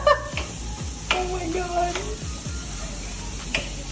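Food sizzling in a hot pan during a cooking session on a road trip, a soft steady hiss under a voice and a few clicks and knocks of utensils.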